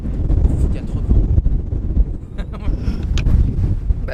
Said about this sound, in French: il y a trop de vent